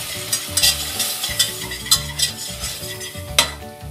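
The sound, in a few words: stirring flour into a pan for béchamel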